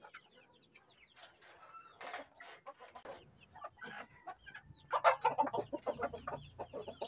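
A native hen used for crossbreeding with Light Sussex clucks repeatedly in short, choppy bursts, close by, with a few brief quieter pauses and some faint background noise.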